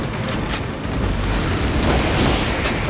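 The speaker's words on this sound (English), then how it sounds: "Deploying shrapnel grenade." A shrapnel grenade going off in Warhammer 40k Space Marine 2: a loud, sustained roaring blast rumbling low and broad, swelling slightly partway through amid dense battle noise.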